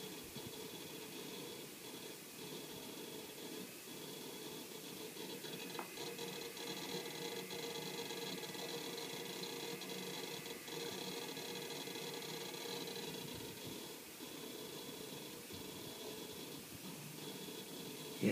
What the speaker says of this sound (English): Yes, it is a very noisy hard drive.